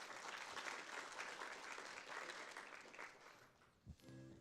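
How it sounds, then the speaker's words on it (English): Audience applause at a seed homecoming ceremony, a steady wash of clapping fairly faint and distant that tapers off near the end, where a brief knock and a tone come through. "Let's give her a big round of applause."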